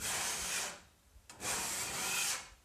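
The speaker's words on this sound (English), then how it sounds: "Now, I use this big flat knife." A big flat knife scrapes across a cured epoxy coating in two long, close strokes, each a broad rasping rub separated by a brief pause.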